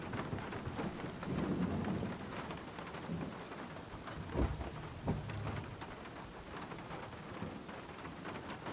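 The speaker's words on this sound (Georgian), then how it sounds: "მაგრად წვიმს." Heavy rain pouring steadily as a dense, constant hiss, with a couple of low thunder-like thumps partway through and no voices.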